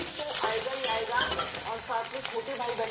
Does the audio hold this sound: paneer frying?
yes